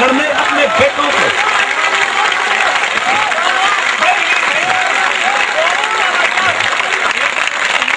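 Sustained applause from a large audience under a pandal at a Hindi poetry recitation, dense steady clapping with crowd murmur, loud and continuous throughout.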